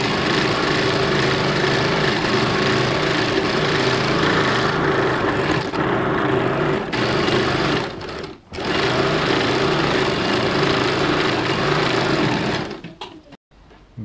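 A sewing machine stitches a blouse in a fast, steady whirring run, pauses briefly partway through, resumes, and then winds down and stops near the end.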